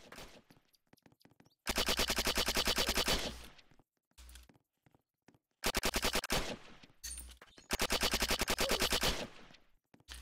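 Video game automatic gunfire in third-person play comes in three long, loud, rapid bursts separated by quieter gaps with faint clicks and shuffling.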